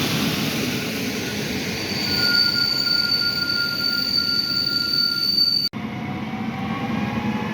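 Intercity Hetman passenger train hauled by an EP07 locomotive passing through Tarnów, Poland: loud steady rumble of wheels on rails with high wheel squeal tones, a sudden cut midway, then continued rolling.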